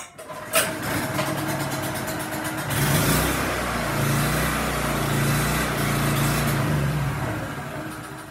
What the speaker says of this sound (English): I put a new spark plug in it, changed the oil, put the carburetor, cleaned the carburetor up, and this is what we ended up with.